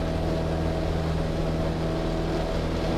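Small training airplane engine powering up as the throttle is slowly advanced for the takeoff roll, a loud, constant droning hum heard alone and close.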